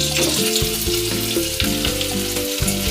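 Pumpkin leaves and diced potatoes fry in hot oil, giving a steady, loud sizzle with stirring noises over it and no talk.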